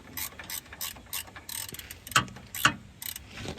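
A ratcheting box end wrench tightens the front motor mount bolt on a manual five-speed Honda Element, giving a close run of quick metallic ratchet clicks in short bursts with two sharper, louder strokes near the end and no talking.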